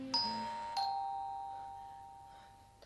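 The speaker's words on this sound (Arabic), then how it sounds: "هذا الجرس." A doorbell rings twice in quick succession, each bright ding tone ringing out and slowly decaying, heard alone and fairly close in a quiet room.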